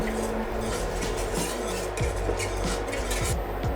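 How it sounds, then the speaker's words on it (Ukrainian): Soft scraping and clinking of a utensil stirring cherry-coconut cake mixture in a pot over medium heat, with irregular light knocks against a steady background hum. "Варимо на помірному вогні, постійно помішуючи, щоб маса закипіла."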